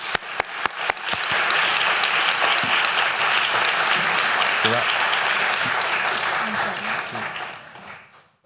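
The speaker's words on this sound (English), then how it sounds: "Please join me in giving Rory and Giselle and every flag bearer a warm round of applause." A convocation audience gives a warm round of applause to the flag bearers, a few separate claps swelling into loud, sustained dense clapping before fading out near the end.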